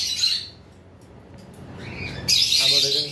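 Pet birds, including lovebirds, chirp and squawk in a bird shop, bright shrill calls close by in bursts at the start and loudly near the end.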